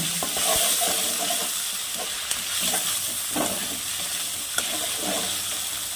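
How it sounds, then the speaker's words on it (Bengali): Onion paste frying in oil with nigella seeds, a loud continuous sizzle broken by repeated scraping stirs of a spatula in the pan. "পেঁয়াজটাকে আমি একটু হালকা লাল করে ভেজে নেব"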